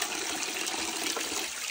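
Water flows steadily beside a farm path near Longkhum village in Nagaland, a continuous close hiss and gurgle with no voices.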